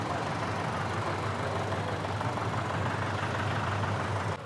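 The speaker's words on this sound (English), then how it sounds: "I have a steam engine here set up to run and operate a small sawmill" A steam engine at a county show runs steadily, set up to drive a small sawmill, giving a constant low rumble with a dense, even hiss throughout and no distinct strokes or breaks.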